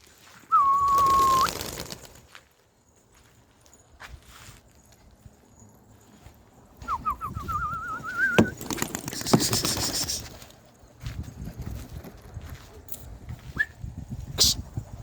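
Homing pigeons around a pigeon loft, heard as faint flapping and scattered bird sounds mixed with whistles and rustling, with louder bursts of activity and noise in between.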